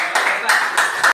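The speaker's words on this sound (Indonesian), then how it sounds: "Tepuk tangan untuk kelompok 1." A classroom audience applauds a group after a presentation, short bursts of hand clapping in quick rhythmic waves, close and fairly loud.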